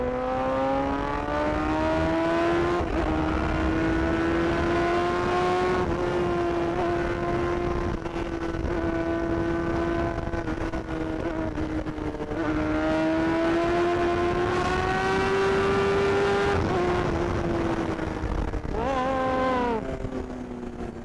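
A sport motorcycle fitted with a Brocks exhaust revs with a loud, sustained engine whine that rises and falls through the throttle, ending in a sharp final rev, heard close and continuous.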